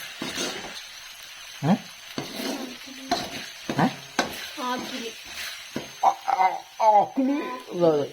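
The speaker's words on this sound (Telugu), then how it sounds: "అల్లం పేస్ట్ వేసి వేసింది సో కాసేపు మరగనిస్తున్నాం" Ginger paste simmers and sizzles in a pot while a spoon stirs and scrapes at it in irregular bursts, close up, with someone talking over the cooking.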